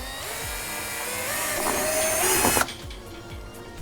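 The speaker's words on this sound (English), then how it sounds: "drill a hole in the bumper" A power drill whines at a rising pitch as it bores through a plastic car bumper, then abruptly stops, leaving quieter clicks and handling sounds.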